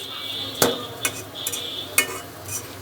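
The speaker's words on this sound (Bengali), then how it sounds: "এইভাবে ব্রাউন কালার করে আমি সবগুলো নাস্তা ভেজে নিব" Snacks browning in a covered pan make a low background sizzle, punctuated by four or five sharp clinks and scrapes of a spatula or lid, with no speech.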